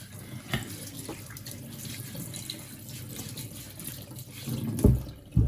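Kitchen tap water running while potatoes are washed and scrubbed, a continuous splashing stream with occasional louder spatters and knocks near the end.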